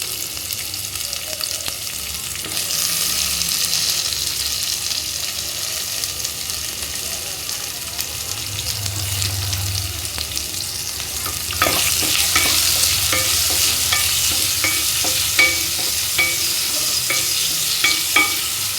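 Chopped onions with a pinch of salt frying in a pan for egg palya, a steady close sizzle that grows louder midway, with repeated scraping stir strokes of a spatula against the pan.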